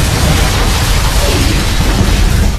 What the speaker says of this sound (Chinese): 炸弹瞬间爆炸。